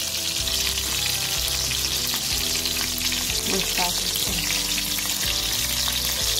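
Buckwheat fritters sizzle and crackle in a pan, a loud continuous hiss throughout, with a brief spoken phrase and faint utensil clinks underneath.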